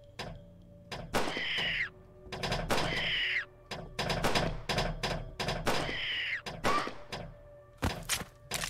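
Metal striking wood in the horror video game Dawn of Fear: a series of loud, hollow thunking impacts in an uneven rhythm, some in quick pairs, with ringing tonal tails between hits.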